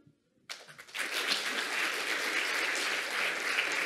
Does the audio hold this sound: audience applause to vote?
yes